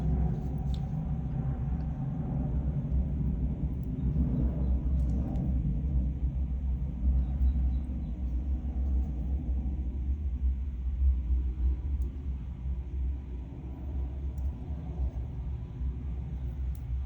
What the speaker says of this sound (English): Airplane going overhead.